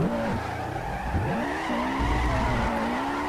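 Ford Mustang Hoonigan drifting, tyres skidding and squealing close by while the engine revs swing up and down in pitch, loud and continuous, no voices.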